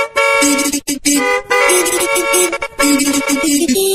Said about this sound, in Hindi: गाड़ियां हॉर्न मारते रहती है